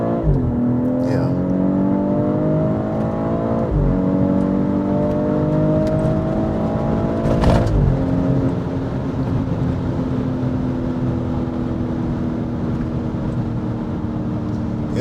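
A 2023 BMW X3 M40i engine revs up through a run of rising pitch sweeps, each broken by a quick upshift, loud and close from the cabin with some voice in the background.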